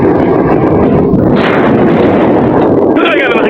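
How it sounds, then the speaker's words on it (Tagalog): Explosions rumble loudly and continuously in an anime battle scene, dense booming blasts with bursts of higher crackle, under and alongside dramatic dialogue. "Kaya na nakikita nyo, may mga pagsabog na nagaganap ngayon."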